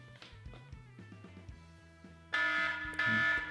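Quiet tapping and handling sounds come first, then an iPhone anti-theft alarm from a jailbreak tweak, set off by unplugging the charger, bursts in as a loud, harsh buzzing siren that pulses steadily to the end.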